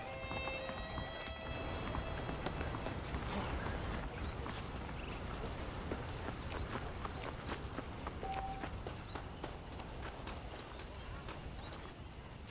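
Horse hooves in Red Dead Redemption pound in a fast, steady galloping rhythm, continuous and moderately loud over a wash of outdoor background noise.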